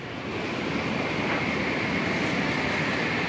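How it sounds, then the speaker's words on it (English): A bullet train rushes past, a loud sustained roaring whoosh that swells quickly and holds steady, with no talk. "here comes the bullet train"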